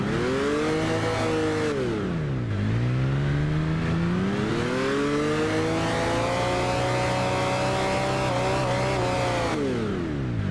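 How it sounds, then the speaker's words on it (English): A car engine in Gran Turismo 6 revs up and down repeatedly, dipping low then climbing to a sustained high whine, loud and continuous with no talking. "I was going to show you the engine sound"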